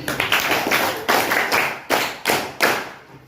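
Audience at a school seminar event applauding, with bursts of hand clapping in uneven waves rising and fading across the room, fairly close and alone without talk.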